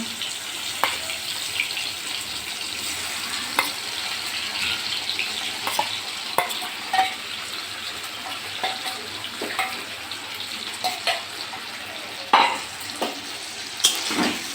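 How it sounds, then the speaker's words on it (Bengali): Prawns fry lightly in hot oil in a home kitchen, giving a steady close sizzle with frequent sharp pops and spatula clicks scattered throughout. "মাছগুলো তেলের মধ্যে দিয়ে দিলাম, দিয়ে হালকা একটু ফ্রাই করে নেব"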